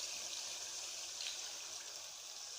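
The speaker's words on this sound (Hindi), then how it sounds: "अब इसमें जो है वो मैं 1 गिलास पानी शामिल कर दूँगी।" A glass of water pours into a pan of fried chicken, a soft continuous stream splashing and trickling at low volume with no talking.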